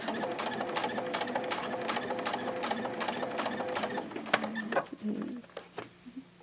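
A sewing machine stitches an invisible zipper into fabric, a fast, even, close mechanical chatter that runs steadily and then stops near the end, followed by a few small handling sounds.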